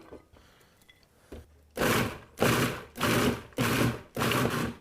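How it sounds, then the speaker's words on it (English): A food processor pulses cauliflower into rice-sized pieces, giving five short, loud whirring bursts with brief pauses between, after a quiet start with faint kitchen noise. "you could use a food processor like I'm going to do"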